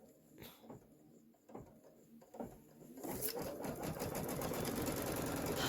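A domestic sewing machine quilts a pillow top, starting with a few isolated stitch bursts before settling into a loud, steady, fast-running drone for the last few seconds, close by and without talk.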